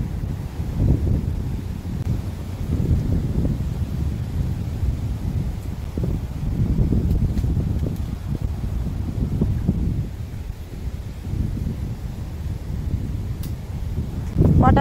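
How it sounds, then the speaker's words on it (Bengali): Gentle wind blows through the Sundarbans mangrove forest, a steady low rushing that buffets the microphone with rumbling gusts, close and continuous throughout, with no clear talk. "আস্তে হাওয়া হচ্ছে কিন্তু,"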